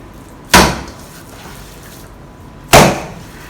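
Minced meat with a little fat, mixed for soup dumplings, is slammed down twice, making two loud, sharp thuds about two seconds apart with quiet in between.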